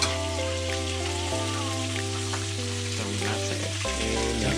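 Plain, unseasoned food grilling over heat, giving a constant close sizzle and crackle over a steady humming tone that shifts pitch a couple of times.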